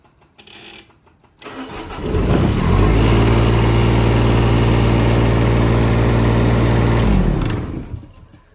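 A mini digger's small diesel engine, with new heater plugs, cranks, catches and runs steadily with a loud, close, low rumble for several seconds before winding down and stopping.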